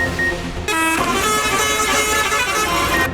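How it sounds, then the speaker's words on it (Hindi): Decorated passenger buses at a bus fair in Sohawa blare musical horns playing tunes, a loud, close, sustained multi-tone melody with bright harmonic notes starting after a brief lead-in. "मुख्तलिफ धुनों पर बनाए गए हॉर्न ने समा बांध दिया।"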